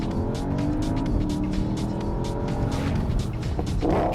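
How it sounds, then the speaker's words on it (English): A 2018 Porsche Panamera Turbo Sport Turismo wagon with a twin-turbo V8 pulls hard under steady, loud acceleration, engine roar and road noise filling the cabin continuously with a rising tone near the end. "It's a twin turbo V8, you don't feel any lag from that."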